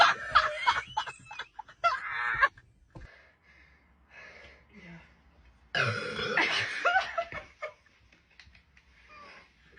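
Loud, drawn-out burps after drinking Sprite, two bursts separated by a quiet gap, close to the mic, with faint giggles and breaths in between.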